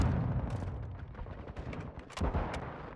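Sniper rifle shots in Call of Duty Modern Warfare II crack out as a few sharp reports over a busy, noisy game backdrop.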